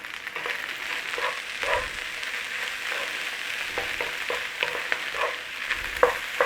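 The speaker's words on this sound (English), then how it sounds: "try and blacken a little bit of that rice on the bottom of that pan" Corned beef dirty rice fries and crisps on the bottom of a hot pan, a steady close sizzle broken by scattered pops and scraping stirs at moderate volume.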